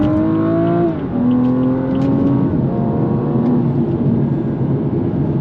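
A BMW 435i F32 with its straight-six engine pulls hard at full throttle, the loud, smooth tone climbing in pitch, dropping briefly at a gearshift near one second, then rising again under sustained acceleration.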